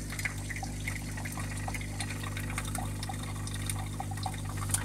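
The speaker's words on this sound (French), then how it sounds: "Alors, on appuie ici, tac. Et là, mon eau, elle coule." Water flowing from a Canofea coffee machine, a steady low hum of the pump with a soft continuous trickle and faint small splashes, close and fairly quiet throughout.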